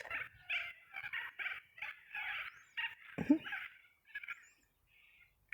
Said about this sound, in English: I was just being quiet while their birds had their little chat about things